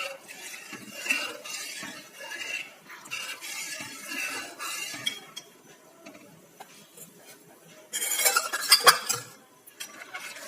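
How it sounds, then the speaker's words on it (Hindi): A spoon stirs an orange jelly mixture thickened with cornstarch as it cooks in a pan, giving soft repeated scraping and clinking against the metal, with a louder burst of scraping toward the end. "तो इसे हम इस तरह से अच्छी तरह से चलाते हुए पकाएंगे"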